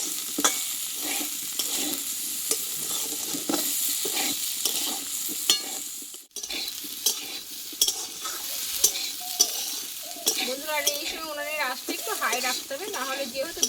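Gaati kochu (taro) is stirred and fried in a pan for a vegetarian Bengali dish. A close, steady sizzle runs throughout under repeated scraping stirs, and a voice speaks briefly toward the end.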